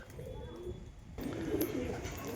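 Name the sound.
pigeon cooing on a rooftop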